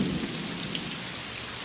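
Rain falls steadily in a continuous, even hiss of drops on surfaces, moderately loud and unbroken across the short stretch, with no voices over it.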